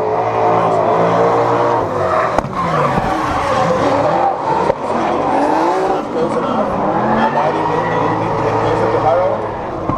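Drift cars slide through a corner at the Drift Allstars top-16 battles in Estonia, tires squealing in a long continuous screech over engine roar, loud and close throughout while a commentator talks over it.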